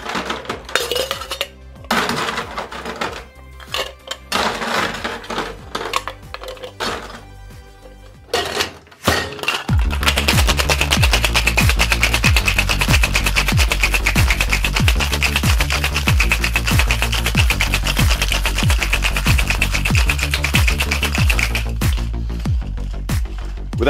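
A cocktail shaker full of ice is shaken hard while mixing a daiquiri, with loud, fast rhythmic rattling and clinking that runs steadily for over ten seconds after some earlier scattered clatter.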